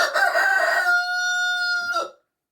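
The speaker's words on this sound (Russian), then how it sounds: "Моя курочка сидит на гнезде." A hen sitting on her nest lets out one loud, drawn-out crowing-like call that ends abruptly, heard close and alone.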